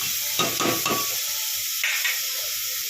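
Onions frying in a pan for a Sindhi home dish, with steady sizzle and a few close stirring scrapes early on, then quieter frying hiss; no talk.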